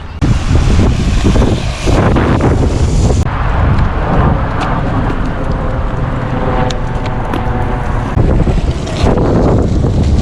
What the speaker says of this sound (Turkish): Hava bugün zaten biraz rüzgarlı.